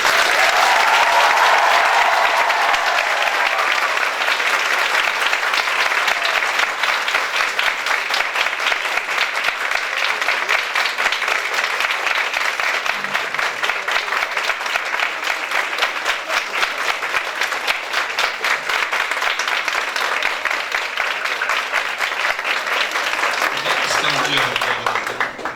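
At a music school's year-end concert, an audience gives a teacher long, sustained applause, a dense, steady roar of clapping that holds for over twenty seconds and briefly mixes with a voice near the end.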